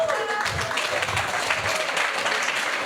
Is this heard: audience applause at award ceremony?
yes